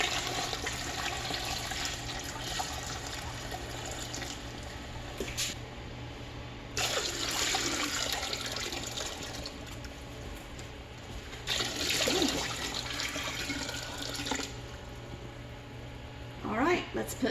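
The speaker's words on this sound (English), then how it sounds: "I'm going to take some hot water and pour over the top at least about an inch." Hot water poured over kiwis in a pot for jam: a rushing, splashing pour in several bursts over a constant low hum, with quieter gaps between the pours.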